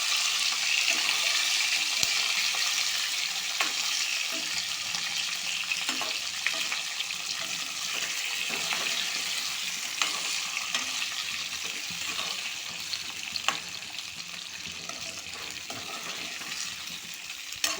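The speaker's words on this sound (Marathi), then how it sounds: "आपण मिश्रण हळूहळू अशी व्यवस्थित परतवून घ्यायचं आहे" A stuffing mixture for stuffed capsicum is sautéed in a pan, giving a steady, loud frying sizzle with repeated scraping and stirring strokes throughout, with no voices.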